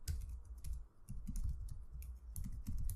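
Code being typed on a computer keyboard, a close, steady stream of rapid key clicks in short bursts with brief pauses, no voices.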